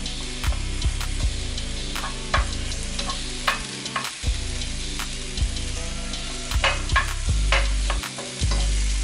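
Mushrooms fry in a pan under a constant sizzle, punctuated by repeated sharp scrapes and knocks of a utensil stirring them at an irregular pace.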